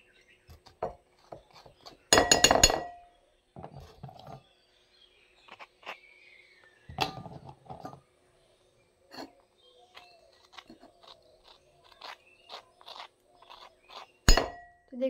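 A spoon scrapes cream off biscuits into a bowl for a homemade cake, making scattered light clinks and scrapes with pauses between them and a couple of louder rattling knocks.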